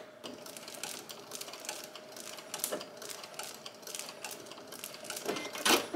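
Sewing machine back stitching fabric for a baby crinkle book, with a soft, fast, rhythmic mechanical chatter in short repeated bursts, fairly quiet and close.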